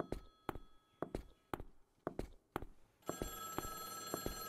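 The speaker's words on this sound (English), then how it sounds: "Phone ringing somewhere." A telephone rings in a video game set in an airport. The bell comes in sharp, evenly spaced bursts with quiet footsteps underneath, then a louder, continuous ringing tone takes over near the end.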